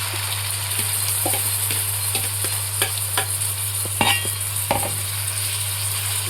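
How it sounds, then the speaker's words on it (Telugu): Marinated prawns sizzle in a pan with fried onions, steady hiss throughout with scattered scraping stirs and a few louder clatters near the middle, close and moderately loud. "ఇప్పుడు మనం మ్యారినేట్ చేసి పెట్టుకున్న ఫ్రాన్స్ వేసేద్దాం దీంట్లో."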